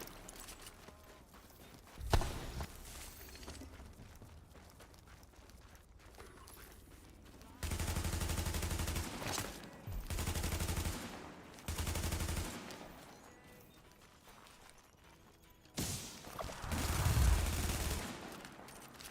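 Bursts of SMG gunfire from The Division, a third-person shooter set in the streets of New York City, come in several loud clusters between quieter stretches of game ambience, with a few sharp isolated shots.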